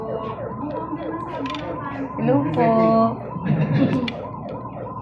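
Sirens wail and rise at a crowded fire scene beside a Petron station, several overlapping tones sweeping up and down behind people talking nearby.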